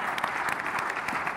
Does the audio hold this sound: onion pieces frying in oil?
no